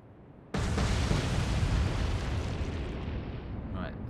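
A torpedo strikes a ship in the naval video game Atlantic Fleet, bursting into a sudden, loud explosion that rolls on as a heavy, sustained rumble and slowly fades.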